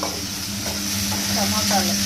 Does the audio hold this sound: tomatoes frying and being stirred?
yes